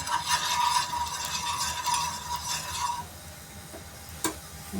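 Sprouted mung bean thepla flatbread fries on an oiled griddle over medium heat, giving a soft, steady sizzle that drops quieter partway through, alone and close.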